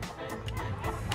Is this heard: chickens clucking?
yes